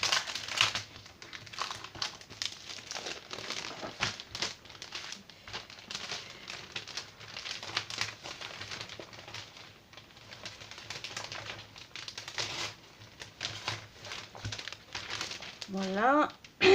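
Crinkling and rustling of scrapbooking paper sheets being handled close up, with soft taps and shuffles, while someone talks in French in the background.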